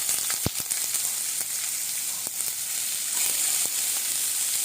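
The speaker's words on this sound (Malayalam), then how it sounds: "ഇതിലേക്ക് ഒരു പച്ചമുളകും അല്പം ഇഞ്ചിയും ഈ സവാളയും കറിവേപ്പിലയും കൂടിയിട്ട് നമുക്കൊന്ന് നന്നായി ഫ്രൈ ആക്കിയെടുക്കാം." Onion, green chilli, ginger and curry leaves frying in a pan for a mushroom puttu dish, giving a continuous close sizzle with scattered crackles and pops and one sharp knock early on, and no voices.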